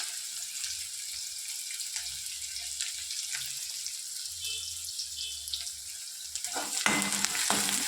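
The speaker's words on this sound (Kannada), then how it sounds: "ಅದಕ್ಕೆ ಈರುಳ್ಳಿ ಮತ್ತು ಹಸಿಮೆಣ್ಸಿನ್ಕಾಯಿ ಹಾಕೊಂಬಿಡೋಣ. ಚೆನ್ನಾಗಿ ಒಂದು ಸ್ವಲ್ಪ 2ರಿಂದ 3 ನಿಮಿಷ ಅದು ಫ್ರೈ ಆಗಿಬಿಡಲಿ." Onion and green chillies frying in a pan, a steady hissing sizzle with low stirring bumps, which grows louder and busier toward the end.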